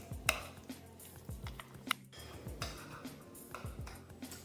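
A spoon stirs finely chopped parsley into a sauce in a bowl, giving a few sharp clinks against the bowl and soft scraping in an irregular rhythm, close up and fairly quiet.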